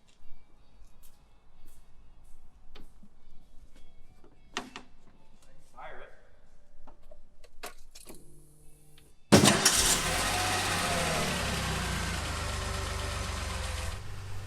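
A DeLorean DMC-12 engine fires up abruptly after quiet stretches with scattered small sounds, then settles into a loud, steady idle that runs alone to the end.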